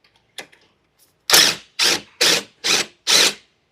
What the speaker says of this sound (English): just use a ratchet.